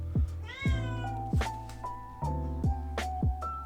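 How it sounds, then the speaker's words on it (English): Several loud, close cat meows, each a short rising-then-falling cry, repeated in a steady series with brief gaps, heard on their own with no talk over them. "you hear the cat?"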